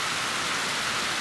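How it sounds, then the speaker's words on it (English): Steady, dense pouring rain hisses in New Orleans, a constant broad wash of close rainfall with no breaks and no voices. "But here it is, pouring rain."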